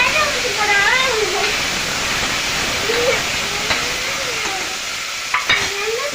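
Ginger garlic paste sautéing in a pan for a village-style green gram curry hisses with a steady sizzle, while voices sound faintly in the background, mostly near the start.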